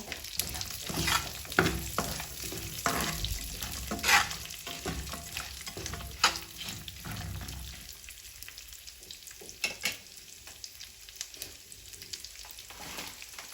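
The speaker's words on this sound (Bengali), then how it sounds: "বাদামগুলো হালকা ভেজে নিয়ে" Nuts and raisins fry in ghee with a bay leaf, cardamom and a piece of cinnamon, a close crackling sizzle with frequent spatula scrapes, quieter toward the end.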